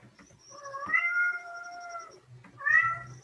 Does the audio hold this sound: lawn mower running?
no